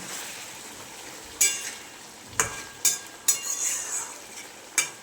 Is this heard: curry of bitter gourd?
yes